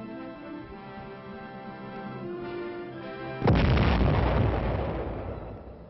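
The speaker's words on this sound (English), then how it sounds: "weapon these soldiers are camouflaging is an 8-inch self-propelled howitzer" An 8-inch self-propelled howitzer fires a single loud, deep blast that rings out and slowly decays. A steady engine-like drone runs beneath it beforehand.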